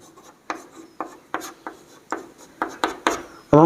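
Chalk tapping and scraping across a classroom board in short, regular strokes, about eight distinct marks with a louder scrape at the end, close and clear with no talk.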